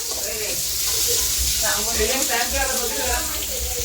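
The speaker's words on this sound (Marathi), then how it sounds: "जसं की बघू शकता मी भाजायला घेतलेला आहे मसाला" Masala roasting in a pan while cooking chicken curry gives a steady sizzling hiss throughout, close and fairly loud, with people talking faintly underneath.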